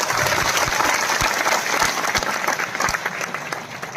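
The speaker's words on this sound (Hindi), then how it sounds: "जोरदार तालियां" A crowd at a Hindi poetry recital breaks into loud, sustained applause, dense clapping with a few sharp individual claps standing out, steady throughout.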